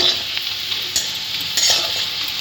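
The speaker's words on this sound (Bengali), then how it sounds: "অল্প একটু ম্যাগি মশলা রেখেছিলাম এর মধ্যে দিয়ে দেবো দিয়ে ভালোভাবে মিশিয়ে নেব" Maggi masala is stirred into softened onions frying in a pan. A loud, steady sizzle runs throughout, with a few scraping strokes of the spoon close up and no voices.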